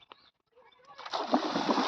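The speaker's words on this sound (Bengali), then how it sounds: "আর এই যে ছোট নদীতে গোসল করছে বাচ্চারা" Water splashes and sloshes continuously as children bathe in a small river, growing busier after a quiet start.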